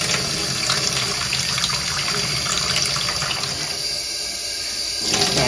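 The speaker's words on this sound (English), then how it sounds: "So I'm just going to keep rinsing this through until the water runs clear" Steady, loud rush of tap water running into a sink while dyed yarn is rinsed under it, continuous with a slight shift in tone near the end.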